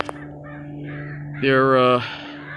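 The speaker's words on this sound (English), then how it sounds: "There's a bunch of crows up there. Oh yeah, there are a bunch of crows." Several crows caw loudly and close in a pine forest at a county park, a harsh burst of repeated calls over a steady low hum, with a brief knock at the start.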